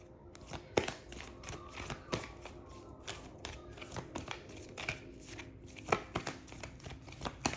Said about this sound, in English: I'm normally pretty bad with when shuffling cards and stuff